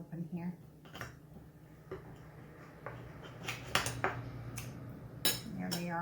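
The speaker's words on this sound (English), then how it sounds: "Let me get a knife and cut one open." A knife clinks and scrapes against a plate while a warm rock cake is cut open, a few sharp metallic taps and scrapes under intermittent talking nearby.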